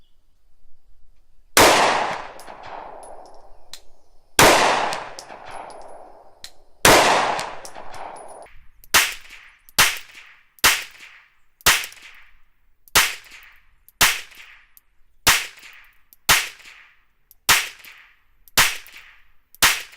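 Twelve loud 9mm pistol gunshots on an outdoor range, with three widely spaced shots followed by a quicker steady string, each sharp crack trailing off in a short echo, and no speech.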